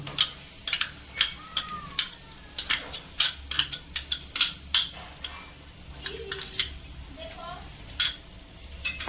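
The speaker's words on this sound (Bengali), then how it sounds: "দইটা দেওয়ার পর ভালো করে নাড়িয়ে চাড়িয়ে নেব" Yogurt being stirred into a pan for dahi katla gives a run of quick scraping taps and clinks from a spoon against the pan, uneven in rhythm and close, with soft sizzling beneath.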